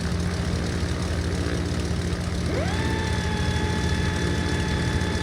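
Aircraft ailerons retracting in the Airport CEO video game, heard as a rising mechanical whine that settles into a steady tone over a constant engine idle drone, with no talking.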